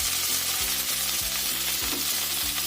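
Chopped tomatoes and green chilies sizzle and fry in a pan for butter chicken, with a steady hiss and rhythmic pulses of stirring throughout.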